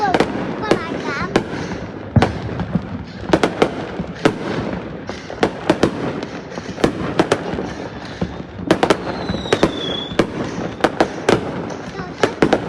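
New Year fireworks display over the sea, with rapid loud bursts and crackling pops repeating throughout, with short whistles and voices talking beneath the booms.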